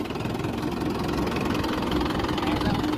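A tractor engine idles steadily right after starting, a close, continuous low rumble with a knocking throb that holds at an even level throughout.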